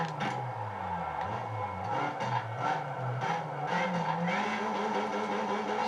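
Stock front-wheel-drive car in Need for Speed Underground 2, engine revving up and down through rising and falling pitch sweeps, close and loud, with some tire noise underneath.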